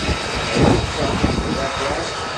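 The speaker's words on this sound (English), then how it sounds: "We've had a lovely profile of the 35 Joint Strike Fighter." An F-35 Joint Strike Fighter at the 2023 Australian International Airshow gives off a loud, sustained jet roar that swells slightly midway, with a commentator speaking over it.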